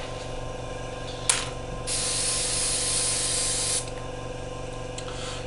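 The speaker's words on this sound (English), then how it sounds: "if you keep on spraying it, you can come up with this type of effect" Spray paint from an aerosol can hissing onto a shiny plastic 1/48 Italeri Chinook model kit, a brief puff followed by a steady two-second burst, close and alone.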